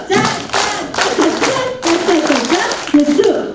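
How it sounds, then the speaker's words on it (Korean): An audience at a church leadership retreat claps in a steady rhythm along with a song, mixed with loud singing and voices throughout. "우리 모두 박수 쳐요."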